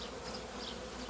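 Honey bees buzz close around a hive's water source, a steady, dense humming drone of many insects at once with no talk.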